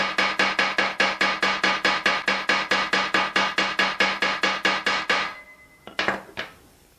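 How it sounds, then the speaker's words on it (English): Rapid, steady run of about two dozen sharp hammer taps on metal being worked after annealing, close and loud, then a pause and a couple of final ringing strikes. "Now it's rigid, just those hammer taps."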